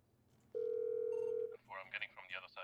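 Telephone tone heard in a video game roleplay scene: one steady, loud electronic tone held for about a second, then voices talking close by.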